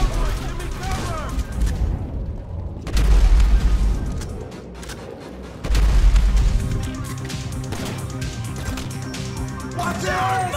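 Explosions in Grand Theft Auto 5 during the Meltdown mission: two heavy, deep booms a few seconds apart, each with a rumbling tail, amid game chatter and shouted voices.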